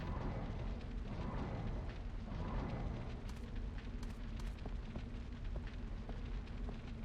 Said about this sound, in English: We're trying to smother the fire